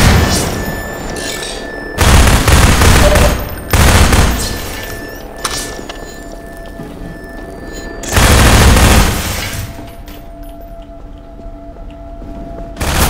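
Game gunfire in Half-Life 2 rings out in loud, dense bursts separated by brief lulls, with booming impacts and a quieter final stretch.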